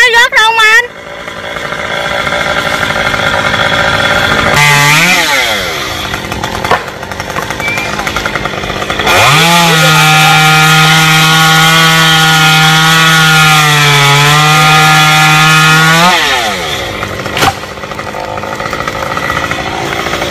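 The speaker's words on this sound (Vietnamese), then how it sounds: "Phải đổi cái máy cưa lên để cưa xong" A chainsaw cuts a long Xà Cừ tree branch reaching over power lines. Its engine revs up in a short burst, then holds a loud, steady cutting whine for several seconds before dropping back to idle, with voices nearby.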